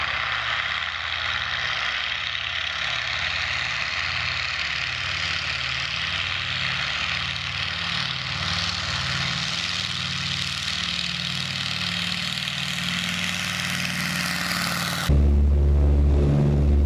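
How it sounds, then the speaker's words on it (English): Avro Anson engines running at Omaka Airport in New Zealand, a steady loud propeller drone with a throbbing low pulse held for many seconds before an abrupt louder change near the end. "Here is Bill Reed's Anson in action at Omaka Airport in New Zealand."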